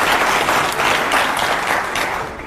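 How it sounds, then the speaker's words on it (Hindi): A packed studio audience at a televised Hindi political debate breaks into loud, sustained applause, dense and steady throughout, slowly easing toward the end. "जोरदार तालियां हो जाए पहले तो"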